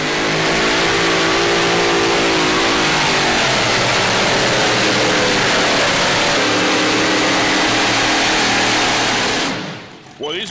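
Hemi-powered pulling tractor at a pro pulling league event roaring at full throttle, a loud sustained rising engine howl that drops away abruptly near the end.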